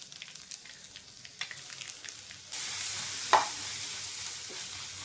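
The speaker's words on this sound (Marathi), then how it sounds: "आता एक अर्धा मिनिट आपल्याला वाटण छान परतून घ्यायचं आहे." Spice paste frying in a kadhai with cumin, asafoetida and curry leaves: a soft sizzle that jumps louder midway as more goes into the hot oil, with a sharp spatter, and no talk.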